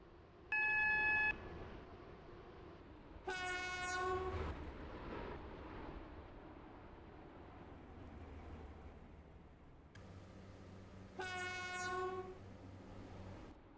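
A Roblox Stepford County Railway train rolls along the rails with a steady rumble, broken by two bright beeping tones and a rising electronic whine, heard alone without talk.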